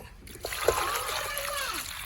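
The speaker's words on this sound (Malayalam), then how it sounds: "വെള്ളം ഒഴിച്ചു കൊടുക്കുക വെള്ളം ഒഴിച്ചു കൊടുത്തിട്ടുണ്ട്" A short splash and trickle of water being poured into a cooking pot, close by, with a brief rising pour sound over faint background noise.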